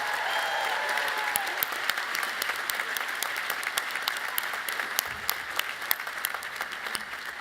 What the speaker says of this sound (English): So one more round of applause for our Bartley Medallion winners.